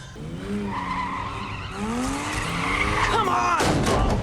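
In a movie scene set aboard a plane, a car skids with long squealing tires that rise and fall over roughly four seconds. Engine noise and an impact-like crack sit underneath, all loud and close.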